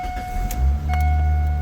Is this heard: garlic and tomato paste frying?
no